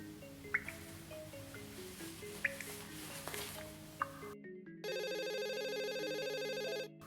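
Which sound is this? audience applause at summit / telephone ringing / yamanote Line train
telephone ringing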